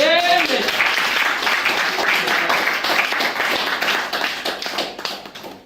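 A church congregation at a worship service breaks into loud, sustained applause for the Lord, dense clapping filling the room and slowly tapering off toward the end, with a voice briefly heard at the start.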